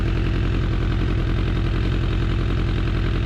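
A 2004 Suzuki Katana motorcycle under restoration idles with a steady, even, close-up chug and rapid regular firing pulses, alone and without talk.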